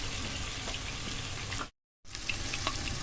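Peppers fry in hot oil in a pan, giving a steady crackling sizzle with small pops that cuts out briefly and then resumes.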